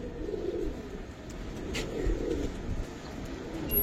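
Giribaz pigeons, including black-necked, Sabchila and silver birds, cooing softly in a loft, a low continuous murmur of close coos with a little background noise.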